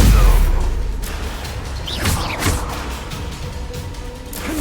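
Incendio fire spell cast in Hogwarts Legacy, a loud burst of swooshing flame and crackle in the middle of the clip among other combat whooshes, with no talking.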